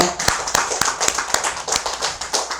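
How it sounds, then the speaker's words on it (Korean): An audience at a Buddhist dharma talk claps together in a steady, close round of applause, brisk and fairly loud. "자, 박수 한번 보냅시다."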